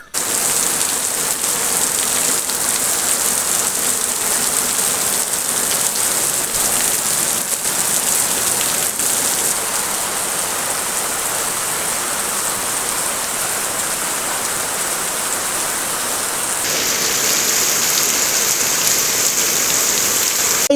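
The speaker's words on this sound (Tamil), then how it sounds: "சரியான மழையாக தான் வந்து இருந்தது காலையில் இருந்தே வந்து சரியான மழையாக இருந்தது" Heavy rain pours down steadily and loudly for the whole stretch on a rainy day in Jaffna, a dense continuous hiss of drops on surfaces with no voices, the texture shifting slightly near the end.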